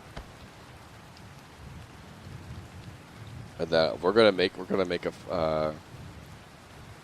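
Steady rain falling in the video game Ruins of Tearyn, a soft continuous wash under a man's speech that fills the middle of the stretch.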